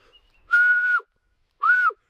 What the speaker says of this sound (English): Whistling attempt turned into frog sounds.